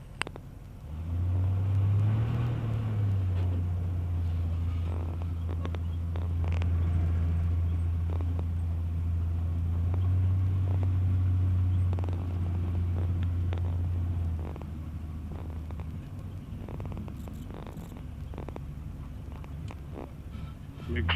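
The engine of a Sonex light aircraft drones steadily during takeoff with one notch of flaps, a loud, close, low rumble holding for about fifteen seconds before easing slightly, with cockpit voices and intermittent knocks over it.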